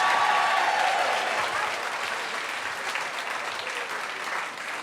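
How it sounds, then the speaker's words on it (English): An audience at a live comedy conversation event applauds loudly and steadily, with the clapping easing slightly toward the end, and no talk over it. "Let's give them a round of applause for coming."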